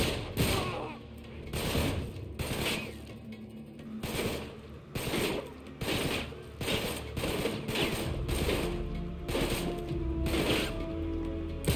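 Gunfire in the video game Uncharted 3: repeated bursts of shots in rhythmic volleys across the whole stretch, loud and close, with mechanical clatter between them.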